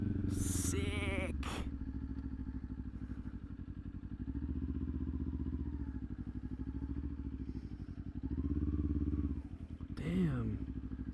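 A Kawasaki Ninja 400 fitted with a black Leo Vince LV10 slip-on exhaust holds a steady, buzzing engine drone while riding, rising and easing with throttle, under bursts of wind noise and speech.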